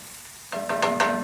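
Breakfast hash sizzling and frying in a Wards (WagnerWare) cast iron pan, a close, bright crackle that starts abruptly and swells in short bursts, with no voices.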